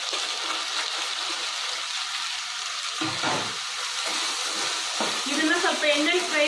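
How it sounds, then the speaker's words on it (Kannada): Pieces of drumstick (moringa pods) fry in a pan with a soft steady sizzle, a few scraping stirs mid-way, and the crackle grows livelier toward the end. "ಈಗ ಇದು ಫ್ರೈ ಆಗ್ತಾ ಇದೆ"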